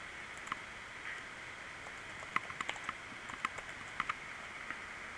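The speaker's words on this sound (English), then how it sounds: "let's type something simple." Light, quiet typing on a computer keyboard comes in scattered bursts of small clicks and taps, close but soft, with no one talking.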